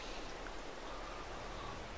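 Steady rain falling in the video game Farming Simulator 22 near a pig barn, a faint soft continuous hiss with light patter, quiet and unchanging, no voices.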